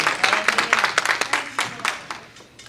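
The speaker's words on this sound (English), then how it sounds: "Give God a hand clap of praise." Congregation at a church service gives a short round of hand claps in praise, a quick burst of clapping that tapers off within a few seconds, with faint voices under it.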